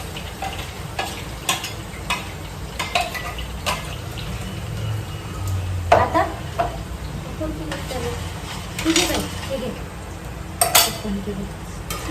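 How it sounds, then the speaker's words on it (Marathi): Masala sautéing in hot oil in a home kitchen pan, a steady sizzle with repeated scrapes and clinks of a spoon stirring against the metal, close and fairly loud, with no talk. "मसाला आता परतत आहे"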